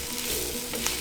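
Swiss chard stalks and dates being stirred in a hot pan, a soft even sizzle with light scraping and a couple of brief utensil clicks near the end, with no talking.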